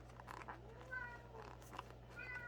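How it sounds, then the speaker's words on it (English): A cat meows a few times, faint and somewhat distant, over a steady low electrical hum. "Don't mind the meowing, it's my cat."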